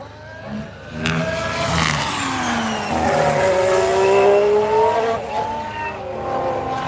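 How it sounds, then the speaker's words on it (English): Formula 1 turbo hybrid V6 cars at testing sound loud and close: engines rise in pitch as they accelerate and sweep past, overlapping and holding a sustained high scream with shifting tones. "You still get the sweet sound of turbo hybrid V6 beauties."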